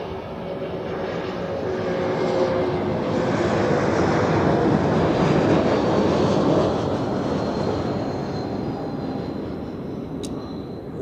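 An airliner arriving from London Heathrow at Zurich Airport roars past, swelling to a loud broad rush midway and then easing slightly, heard alone without talk.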